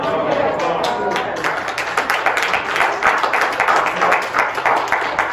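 Scattered clapping from a small number of people in a church during a sermon, an uneven patter of claps that continues steadily with voices in the background.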